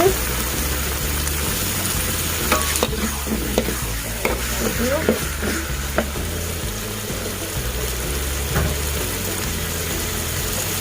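Petai beans and mushrooms sizzle in a hot pan with steady frying hiss and scattered stirring clatter, a constant low hum running beneath throughout.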